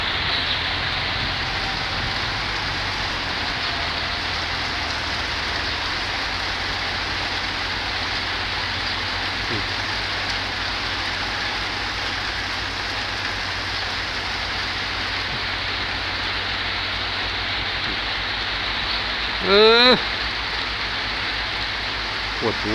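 Steady rain hissing on a surface, an even broadband patter throughout, with a brief rising engine-like whine near the end.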